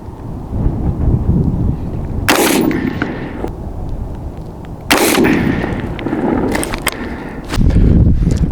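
A rifle firing 77 grain Sierra MatchKing rounds at a long-range shooting session, three loud booming shots spaced a couple of seconds apart, each followed by a rolling echo over steady outdoor wind noise.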